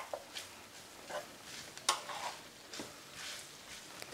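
Drained asparagus and farfalle pasta are stirred in a pan, giving soft scraping and light clinking strokes that repeat at a steady pace, fairly quiet and close.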